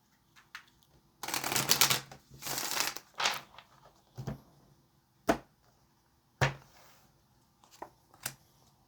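Tarot cards are riffled and shuffled up close in a couple of quick bursts, followed by several separate soft taps and snaps as the deck is handled.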